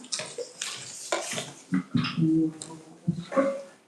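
Water runs and splashes from a tap into a container during an abstract painting session, with uneven gurgling bursts and faint clinks close by.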